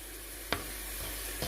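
Steady broadband sizzle of onions frying in a pan, with a couple of brief clinks or scrapes from stirring.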